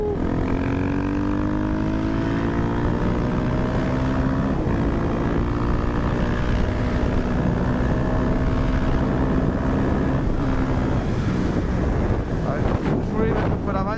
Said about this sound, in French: Pour faire un petit wheeling.